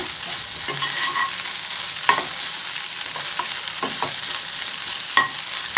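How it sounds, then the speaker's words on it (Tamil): Onion with ginger-garlic paste sizzles and fries steadily in a pan, broken by several sharp scrapes and knocks of a spoon stirring against the metal, close and alone without voices. "இஞ்சி பூண்டு சேர்த்ததுக்கப்புறம் நல்லா வதக்கி விட்டுக்கலாம்"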